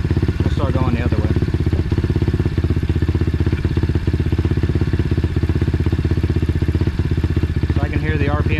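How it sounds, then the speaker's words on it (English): An Apollo Z20 dirt bike engine runs at a steady fast idle close by while its carburetor air screw is adjusted, the rapid pulsing drone continuous throughout, with brief speech-like sounds near the start and end. "I'm gonna listen for the highest RPM that this bike can produce when turning this air screw."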